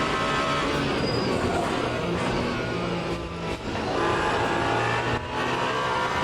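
Porsche race car in Le Mans Ultimate, its engine droning loud and steady from the cockpit with brief dips as gears shift, then pulling hard again, no talk over it.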